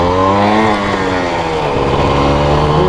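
A motorcycle revs up loudly and continuously as the throttle opens and the clutch is let out, with the engine tone rising and falling through the gears, close by and with no other sound over it.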